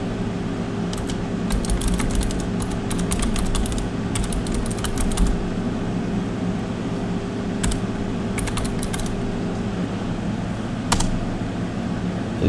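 Computer keyboard typing of Git commands for a Godot game project: bursts of rapid clicking keystrokes, close and clear, separated by pauses over a steady low fan hum.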